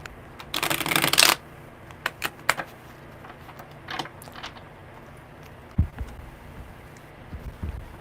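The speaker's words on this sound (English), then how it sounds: "Good shuffles." Tarot cards are shuffled close by: a dense riffle burst opens the sequence, followed by scattered single snaps and soft card taps spread across the remaining seconds.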